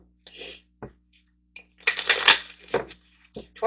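Tarot cards shuffled close up in bursts of crisp riffling and papery slaps, a short flutter first, then a longer, louder shuffle, with quiet gaps between.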